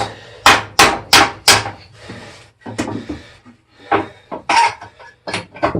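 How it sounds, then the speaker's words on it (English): Sharp hammer taps knock nails backwards out of pallet planks in a quick series of about four loud metallic-wooden knocks, then a few more scattered blows, with some rooster clucking in the background. "You just take your hammer and tap them out backwards"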